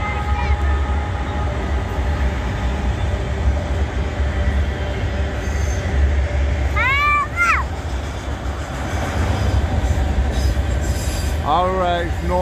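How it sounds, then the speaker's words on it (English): A northbound freight train of autoracks rumbles steadily past through Abbeville, with metallic wheel squeals rising and falling twice over the continuous rolling noise. "No, it's a freight train."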